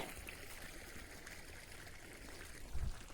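Faint, steady irrigation water trickles continuously through a field, distant and soft, with a low thump near the end.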